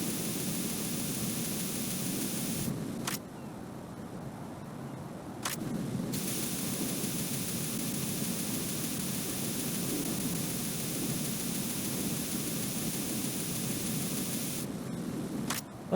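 Coolant spray in the video game Metal Gear Solid 2 hisses as a loud, continuous broadband spray. The stream breaks briefly at a few points and then resumes.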